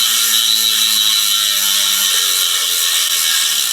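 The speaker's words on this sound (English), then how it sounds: "that is a nice sounding wheel, a good sounding wheel" A Nepest Nexplore gravel bicycle wheel's freehub buzzes with rapid, continuous ratchet clicking as the wheel spins freely, loud and close, a high mechanical whir.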